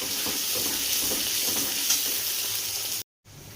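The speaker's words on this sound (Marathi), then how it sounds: "ह्यातच हे वाटण पण आपल्याला तळून घ्यायचे" Ground masala paste sizzles steadily in hot oil in a pan for a ridge gourd curry, an even close-up hiss broken by a brief moment of silence near the end.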